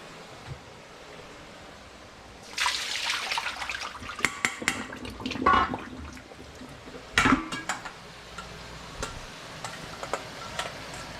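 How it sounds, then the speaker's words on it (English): Water being strained off cooked broccoli, with bursts of splashing and pouring, a few sharp clatters, and quieter dripping between them. "In that case, I'm going to strain the broccoli."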